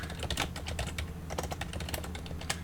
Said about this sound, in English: start typing in our title.